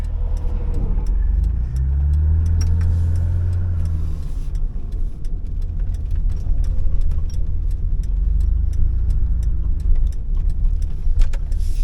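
A tow truck drives past on a road, its engine rumble swelling and fading over a few seconds, heard from inside a moving 1985 BMW 635 CSi over steady road noise and rattles.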